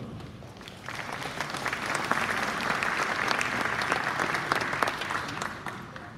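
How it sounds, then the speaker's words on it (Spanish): Sustained audience applause fills a presentation hall at an academic talk, dense steady clapping from many hands that swells slightly and holds for several seconds before tapering near the end. "para quien pedimos un fuerte aplauso"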